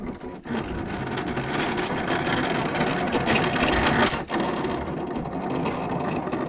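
A vinyl cutting machine works through heat transfer vinyl, a continuous close mechanical whir and rattle with brief pauses in the motor, with no voices.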